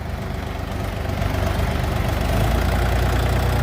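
A Dongfeng 244 mini tractor, a 2022 model, idles nearby with a steady low diesel rumble and a slight rhythmic knock, growing a little louder toward the end, with no voices.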